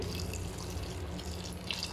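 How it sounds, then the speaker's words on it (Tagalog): Hot water poured into a cooking dish as broth, a steady running splash that continues alone through the clip. "lalagyan po natin ng konting sabaw guys, mainit na tubig"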